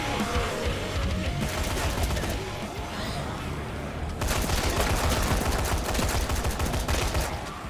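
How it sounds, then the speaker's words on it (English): Assault rifle gunfire in Dead Rising 3: sustained automatic fire, loud and continuous, with a short drop in intensity before a heavier stretch of rapid shots. "I see the assault rifle's pretty cool."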